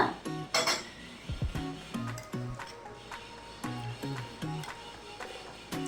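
Chopped onion and capsicum are mixed with masala in a bowl for a smoked paneer sandwich filling, with a spoon clinking and scraping against the bowl in a quick, uneven rhythm.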